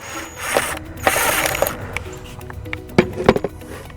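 A drill works a screw out of vinyl trim on a travel trailer: mechanical whirring with ratchety clicks, then several sharp clinks and taps near the end, close up and without talk.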